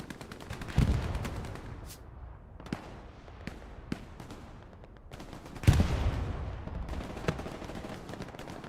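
In the Hell Let Loose video game, gunfire cracks out as a player shoots a downed body: two loud reports with rumbling tails and several sharper single shots spaced across the clip.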